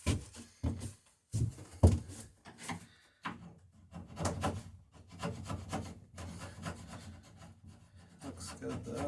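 A hand tool shaves the bevel on a wooden plank of a dory under construction, in short rasping strokes, some isolated and some running in quicker bursts, close by and moderately quiet.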